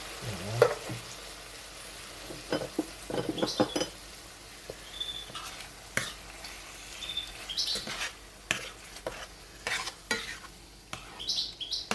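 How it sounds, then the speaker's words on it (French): Tomato sauce with beef meatballs cooking in a pan, a steady soft sizzle under repeated spoon stirring and clinks against the metal, close and moderate, with no talking. "Ça mijote et là je peux mettre de la tomate"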